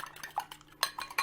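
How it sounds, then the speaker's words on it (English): A little fork stirring a keto snack mixture in a small dish, quick light clinks and scrapes in an uneven rhythm, close and soft with no voices. "Now we're going to start stirring this up with a little fork."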